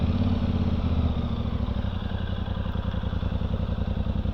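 A warmed-up Voge DS800X Rally motorcycle idles close by with a steady, throbbing rasp and a fast, even pulse that holds level throughout, with no voices over it.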